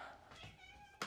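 A house cat meows indoors with a drawn-out, wavering call, followed by a short sharper sound at the end, faint and fairly close in a quiet room.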